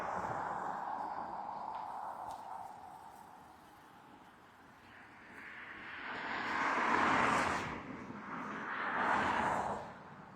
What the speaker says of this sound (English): I don't like walking by the car noise